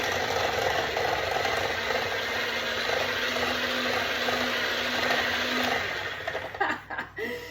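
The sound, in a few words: electric mixer mixing cake batter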